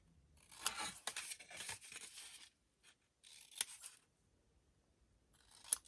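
Scissors snip and crinkle through folded, scored cardstock for a card album, coming in short close bursts of cutting separated by brief silent gaps.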